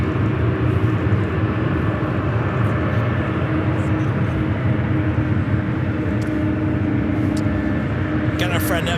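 A Republic Airways Embraer E175 takes off at LAX, a loud, steady jet roar rumbling close throughout with outdoor background noise and no talk.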